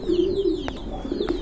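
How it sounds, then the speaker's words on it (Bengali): Domestic pigeons of a crested blue breed, kept in a loft for sale, coo in low repeated phrases close by, with faint higher chirps and clicks mixed in. "আরেক জোড়া কবুতর রাজগোল্লা কবুতর"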